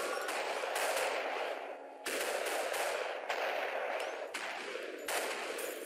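Rapid bursts of gunfire in the SuperHot video game, several loud volleys with short gaps between them, close and dense, with no talking.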